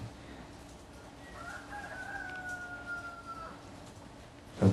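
A rooster gives one drawn-out crow that sounds faint and distant over a low background hiss, followed by a sudden loud knock at the end.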